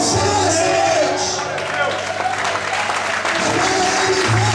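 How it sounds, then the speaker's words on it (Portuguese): Church congregation applauding the Lord during an evening worship service, sustained clapping from a crowd with shouts and babble mixed in, under background music. "abre a boca e glorifique e aplauda o Senhor nessa noite"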